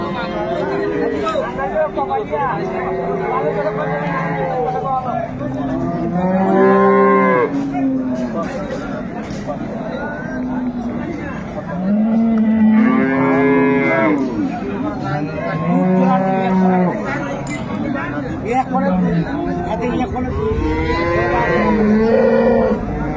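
Improved-breed dairy cows and calves at Ambari cattle market in Dinajpur low repeatedly in loud, drawn-out moos, several calls spread through the clip over a steady hum of crowd chatter and nearby voices.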